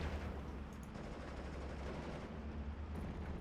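Aircraft strafing fire in Steel Division: Normandy 44, heard as a faint, distant, continuous rattle of automatic gunfire blended into a steady low battlefield rumble for a few seconds, with no talk.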